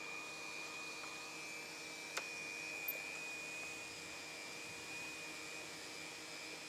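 Seam welding machine running steadily along a ground gas protection membrane sheet, a constant whirring drone with a thin high whine, heard alone with a couple of faint clicks.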